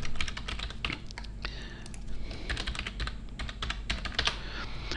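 Typing on a computer keyboard to log in to a management information system, a close, continuous patter of quick keystrokes over a low background hum.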